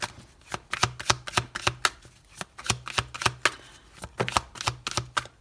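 Tarot cards being shuffled for a Celtic cross spread, a close steady series of crisp riffling slaps and flicks in quick irregular rhythm, with no talking.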